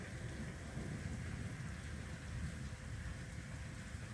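Steady rain falling, a dense continuous hiss of drops on surfaces, soft and unbroken with no voices.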